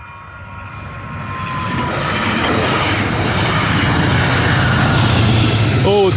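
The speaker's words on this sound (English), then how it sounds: "We get to record a train coming through." A train rolls through at close range in Clinton, a steady rumble that builds over the first couple of seconds and then holds loud and continuous, with a faint squeal and a brief vocal sound near the end.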